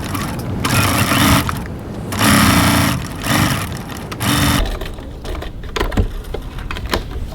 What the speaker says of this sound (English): So now we're going to go over to the sewing machine and stitch with a 1 centimetre 3/8 of an inch seam